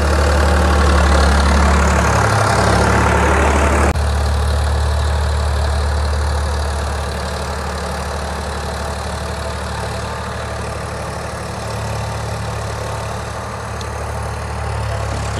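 A tractor running a 7-foot rotavator, its engine loud and close at first, then settling into a steady lower idling drone for the rest of the clip.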